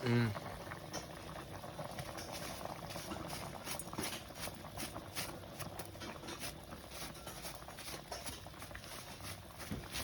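Green chilies fry in a pan on a gas stove, crackling and bubbling in a dense, steady patter that carries on at an even, moderate level.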